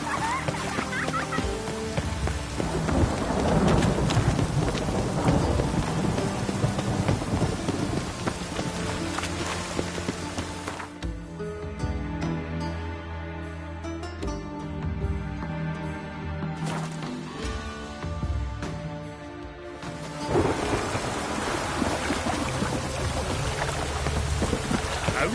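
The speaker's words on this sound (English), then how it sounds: "Rain again." Steady rain pours in The Witcher 3 with low thunder rumbling beneath, a dense continuous hiss that thins in the middle stretch before swelling again, with game music and effects faintly underneath.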